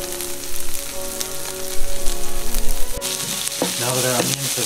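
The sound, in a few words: onions, green onions and garlic sweating in a pan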